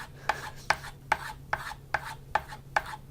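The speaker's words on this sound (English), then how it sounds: "Run it until you grind that burr right off." A Stanley 48 plane iron is stropped back and forth to remove the burr, giving eight evenly spaced, crisp scraping strokes, close and distinct, roughly two per second, with faint background hum and no talking.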